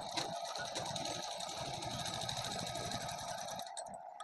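A sewing machine stitching a suit runs in a fast, steady mechanical whir with a continuous rapid needle rhythm, close and even throughout, stopping just before the end.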